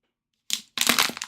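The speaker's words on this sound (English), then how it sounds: "I often crunch up my bottles." A plastic bottle is crunched by hand in two quick bursts of crackling and crinkling, close and fairly loud, after a moment of silence.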